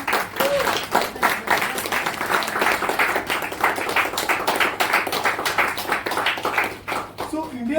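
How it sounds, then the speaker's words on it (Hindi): An audience claps loudly and steadily through a skit performance in Mumbai, brisk sharp claps sustained for several seconds before tapering, with a voice starting up at the very end. "हर एक चार्ट पे ताली बजनी चाहिए"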